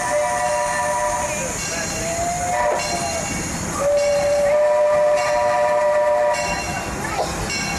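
A steam train whistle sounds on a tourist train ride, with sustained tonal blasts and hiss over steady rolling rail noise, the whistle rising and holding through the middle of the clip.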